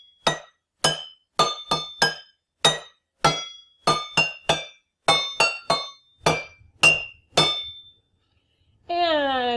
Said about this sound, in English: each cup has its own different sound